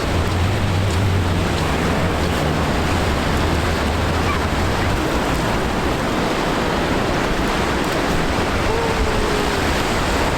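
Pacific Ocean surf washes onto the beach at Cannon Beach, a constant loud broadband rush of water with no distinct breaks, close and continuous throughout.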